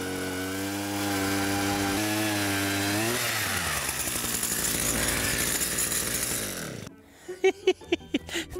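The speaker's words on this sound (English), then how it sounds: "we'll get the drill off the bike. We'll drill you a hole" Ice auger, taken off a bike, drilling a fishing hole through lake ice: a loud, steady motor drone that climbs in pitch as it bites, then cuts off abruptly, followed by a few sharp knocks and clatters.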